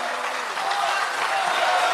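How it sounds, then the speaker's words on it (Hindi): A crowd at a Hindi poetry recital in Bhopal applauds steadily, a dense, loud wash of clapping that holds evenly for the whole short stretch. "एक बार जोरदार तालियां बजा दीजिए विष्णु जी की इतने अच्छी कविता के लिए।"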